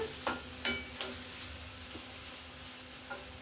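Garlic and ginger frying in a pan, a soft sizzle broken by scattered clicks and scrapes of a utensil stirring against the pan bottom, close and fairly quiet, with no talk.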